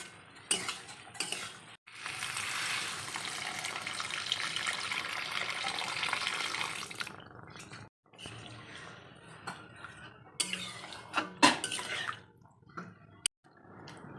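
Water poured into a pan of potato egg curry: a sustained splashing gush for several seconds, followed by clinks of a utensil against the pan and short bursts of stirring, with quiet pauses between.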